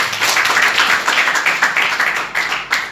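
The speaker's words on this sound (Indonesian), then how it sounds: "Kita kasih tepuk tangan terbaik buat Tuhan." A church congregation applauds during a sermon, with dense, sustained clapping that swells in uneven waves and keeps going throughout.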